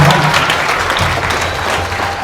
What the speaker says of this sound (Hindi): जोरदार तालियों से भाई का वेलकम करें